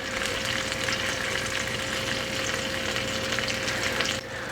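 Dollar General brand luncheon meat, a Spam-style canned meat, fries in a pan with a loud, steady sizzling hiss over a faint constant hum. The sizzle dips briefly near the end, and no one speaks.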